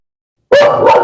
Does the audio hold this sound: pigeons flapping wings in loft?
no